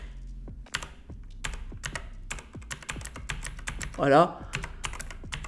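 Clicky strokes on a Razer BlackWidow V3 Pro mechanical keyboard arrive as rapid, irregular bursts, close and crisp. A voice speaks briefly near the end.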